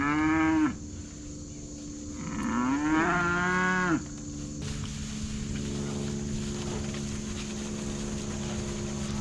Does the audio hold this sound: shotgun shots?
no